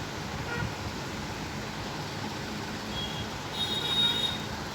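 A train crosses the bridge over the Jhelum river at night, its wheels giving a steady rumbling rattle with occasional faint squeals, moderately quiet and continuous with no voices.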